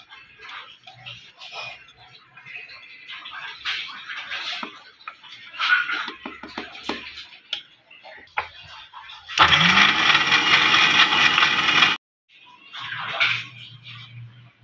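A kitchen mixer grinder whirs loudly and steadily for about two and a half seconds as it blends milk powder with cream skimmed from milk. The motor cuts off abruptly, and quieter kitchen sounds and talk come before and after it.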